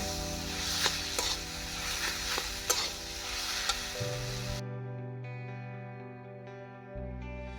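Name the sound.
vegetable chop mixture being mixed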